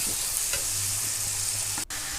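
Fish roe with salt and ginger paste is stirred in an oily pan, a close, steady sizzle with a few soft scraping strokes of the spoon over about two seconds.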